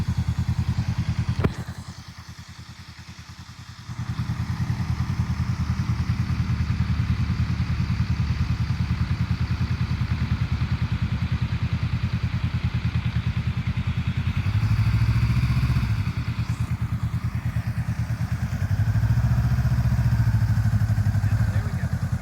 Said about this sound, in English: if we were actually trying to get the bike to move, we'd give it a little more throttle than that